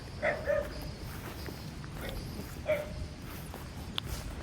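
A dog near a guesthouse gives a few short, faint barks and yips at a distance, scattered over quiet outdoor background with light footsteps.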